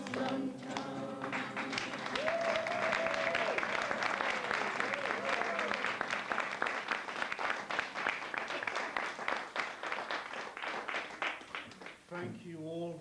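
Steady applause from a theatre audience after a performance, continuous clapping filling the space for several seconds, with a voice and musical tones over it near the start.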